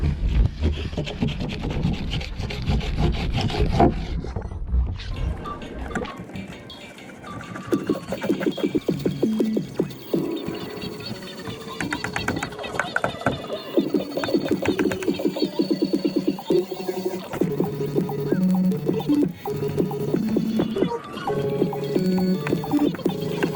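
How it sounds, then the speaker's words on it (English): Steady scraping and rubbing as a bar of wax is worked back and forth over a surfboard deck before hurricane surf at Matagorda Beach, Texas, close and continuous. "Waxing up the board right now."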